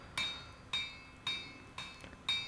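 Heavy hammer blows on hot steel while forging a Viking shipwright's axe blade, five sharp ringing strikes at a steady, unhurried rhythm, each with a bright metallic ping, close and fairly quiet with no talk.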